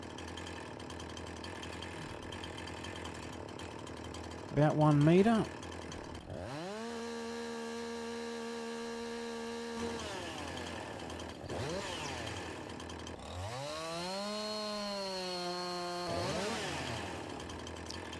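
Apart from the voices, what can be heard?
chainsaw cutting log in Farming Simulator 19 video game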